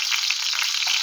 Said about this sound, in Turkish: Yine Rus mantılarını kızartıyoruz.